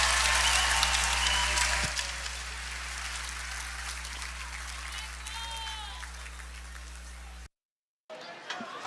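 A crowd of nearly 2,000 at an ice hockey rink roars and cheers in a sustained, dense wash of applause and shouting, loud and continuous, before cutting off abruptly near the end.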